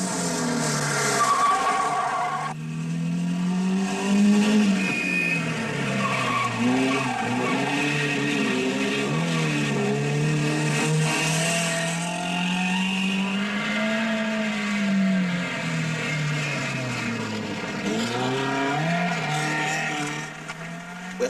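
Rally cars race along a mountain road in the 1958 Coupe des Alpes, engines revving and swelling continuously as they pass, with tires squealing through the bends over about twenty seconds.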